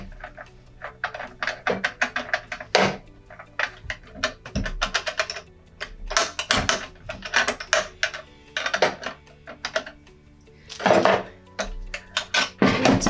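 Metal nut being screwed back onto the bearing of a Keencut Simplex or Sabre cutter, a series of small clicking and scraping taps with irregular rhythm, close and fairly crisp, no talking.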